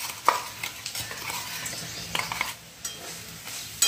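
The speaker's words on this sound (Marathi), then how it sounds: "छान मस्तपैकी खरपूस या तेलामध्ये भाजून परतून घेणार आहे." Ground garlic, peanut and cumin masala roasting in hot oil, a steady sizzle broken by scraping stirs and a few light clinks of a spoon on the pan, close up, with no talking.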